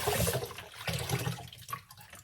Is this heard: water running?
yes